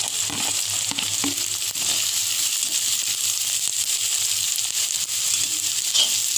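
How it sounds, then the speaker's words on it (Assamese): Onions frying in a pan give a loud, continuous sizzle and hiss, with a few faint stirring scrapes near the start, and no voices. "এতিয়া পিয়াজ দিম ইয়াত পিয়াজখিনি মই অলপ সময় ভাজিম"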